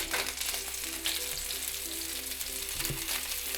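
Vegan meatballs sizzle and fry in butter in a pan, a steady close crackle with occasional soft stirring bumps and no talking.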